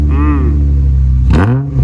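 Honda Accord with a J32a2 swap and dual exhaust revs nearby, a loud steady engine note rising in pitch, then a quick sharper blip near the end.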